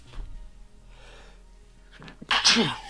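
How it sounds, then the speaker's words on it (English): A single loud sneeze bursts out near the end after a few soft breaths and quiet sniffs, close to the mic. "I think I'm about to sneeze."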